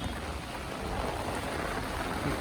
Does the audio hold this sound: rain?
yes